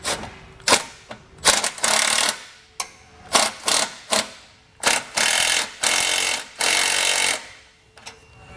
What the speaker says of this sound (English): We can then go back and tighten down our hardware using a 7/16 socket and wrench.